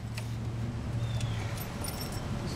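Motorcycle keys jangle lightly and intermittently, close by and fairly faint, over a low steady background hum.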